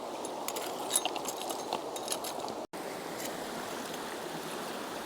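River water flows steadily over a collapsing riverbank foreshore, a continuous close rush with faint metallic clinks and a brief dropout midway.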